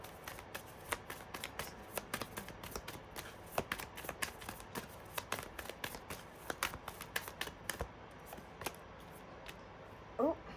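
Tarot cards shuffled and drawn by hand, a rapid continuous patter of riffling card edges with crisp flicks throughout, close and fairly quiet.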